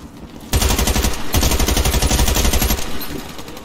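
Sustained automatic enemy gunfire in the video game Warface, a loud rapid rattling burst lasting a couple of seconds before easing off.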